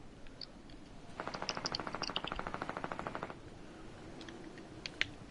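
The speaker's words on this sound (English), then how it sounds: "Jimmy, are you shooting at me?" A rapid burst of video game gunfire, about two seconds of evenly spaced automatic shots at moderate distance, followed by quieter scattered clicks.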